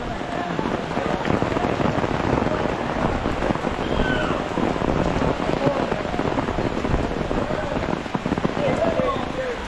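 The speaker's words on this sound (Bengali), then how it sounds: "ভিজি যাবো রে এই বৃষ্টির মধ্যে" Steady rain patters close by at a Radha Govinda and Kali temple in Palashbari, Gaibandha, for the whole stretch, a dense continuous hiss with faint broken sounds mixed in.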